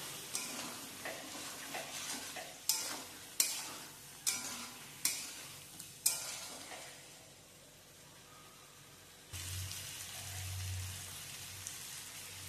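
Spices are stirred in a pan with a quick run of sharp scraping strokes, then a lull before a soft sizzling resumes, fairly quiet overall and without talk.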